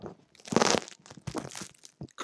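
Close crunching bites into a crusty ham and mozzarella sandwich on crunchy bread, a few sharp crackling crunches alone in a quiet room.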